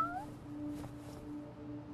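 A cat meows in a video game, a short rising cry repeated twice in quick succession, close and clear over a low steady background hum.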